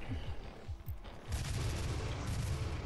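Gunshots in the DOOM video game: a rapid series of low booming blasts, then a loud sustained burst of fire that continues to the end, close and heavy.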